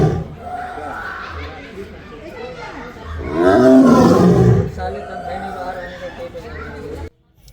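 A Royal Bengal tiger at Alipore Zoo lets out one deep, loud roar lasting about a second, rising above steady crowd chatter and children's voices nearby.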